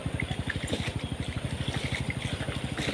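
Tap water pours in a quick, regular gurgling rhythm, close and fairly quiet, with splashing on top of a low pulsing flow for a few seconds.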